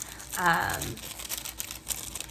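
Thin gift-style tissue paper wrapping with a sticker crinkles as a Kiko Milano cosmetics package is unwrapped, a brief close rustle followed by softer intermittent crackles.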